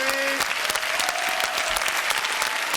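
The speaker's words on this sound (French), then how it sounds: "Applaudissements pour lui." A studio audience claps together for a few seconds, a dense, steady burst of applause at moderate loudness, with a brief tone and faint voices at the start.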